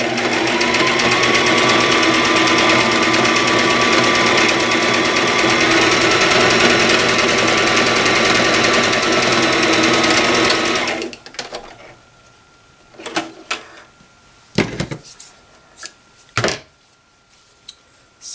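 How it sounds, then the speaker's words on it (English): A Brother sewing machine runs steadily for about ten seconds with a rapid whirring stitch, then stops, followed by scattered handling clicks and knocks. "I have a Brother sewing machine."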